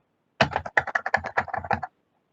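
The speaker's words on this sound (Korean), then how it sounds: "어쩔 수 없이 지금 타이핑으로 만들고 있지만" Quick, uneven run of about a dozen clicks from typing on a computer keyboard, close and clear in a quiet room, lasting roughly a second and a half before stopping.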